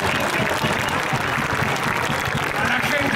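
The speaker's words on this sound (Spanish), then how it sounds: "fuerte el aplauso" Loud, continuous crowd applause at a political rally, a thick roar of clapping from a large audience that holds steady for the whole stretch.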